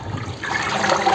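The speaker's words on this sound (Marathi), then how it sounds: "हे बघा अशा पसरट भांड्यामध्ये घेऊन चांगलं आपण हे भाजी चांगली हलवून चांगली स्वच्छ धुवायची आहे।" Red amaranth greens being swished and washed in water in a wide vessel, a close, continuous sloshing and trickling of water with no speech.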